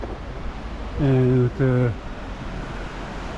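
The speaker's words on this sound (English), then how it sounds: "water flowing underneath" Water flows beneath a wooden covered bridge in Wawona, Yosemite: a steady, broadband rush runs throughout at moderate distance, with a voice briefly speaking over it near the middle.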